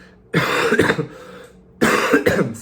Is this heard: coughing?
yes